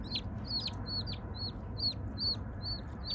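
Wild turkey poults separated from their roosting mother peep in a steady run of about eight high, thin chirps over a low outdoor rumble in a front yard.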